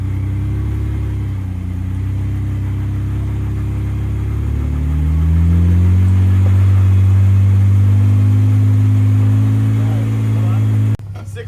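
Engine of an off-road vehicle on Black Mountain in Harlan, Kentucky, climbing a hill: a steady low rumble that swells louder and deeper midway as it labors upward, then cuts off abruptly near the end.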